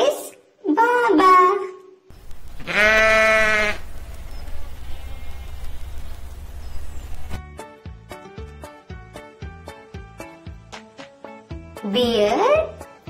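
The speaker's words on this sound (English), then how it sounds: "Sheep says baba." A voice speaks, then a long wavering bleat sounds, followed by rhythmic music with another bleat-like cry near the end.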